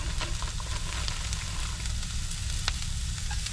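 Sausage links sizzle in a frying pan: a dense, loud, steady crackle of hot fat with scattered sharp pops, close by and continuous throughout with no talking.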